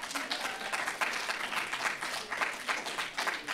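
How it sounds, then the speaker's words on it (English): An audience claps for a community engagement and support director during a visit to the National Museum of African American History and Culture, a fairly faint, brisk patter of many hands with a few sharper individual claps throughout. "You can clap for him anyway."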